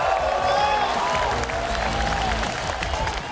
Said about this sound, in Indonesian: Tepuk tangannya dahsyat penuh rasa cinta.